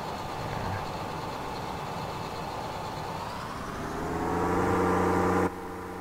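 A CAT 75C tractor in Farming Simulator 19 drones steadily with a rough engine rumble, then the pitch climbs as it revs higher before the sound cuts abruptly to a quieter hum.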